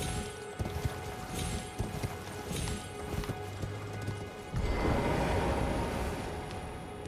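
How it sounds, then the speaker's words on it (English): Horse hooves in the Elden Ring video game, a rhythmic clip-clop of galloping up close, then a burst of heavier rushing noise midway as the movement continues. "call the horse from there and didn't work"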